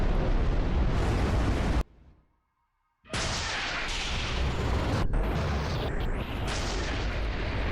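Heavy weapon fire and rumbling explosions fill a modded Halo 3 battle on a giant map with glassing beams, a dense continuous roar that drops out briefly and then returns at full strength.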